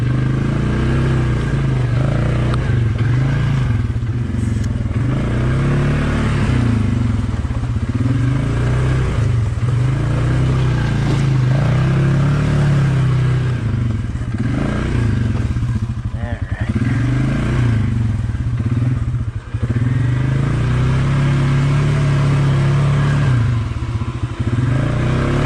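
A 450 dirt bike fitted with an EPI clutch kit rides along, its engine droning loud and steady with gentle surges in pitch and occasional clatter, and no talk over it.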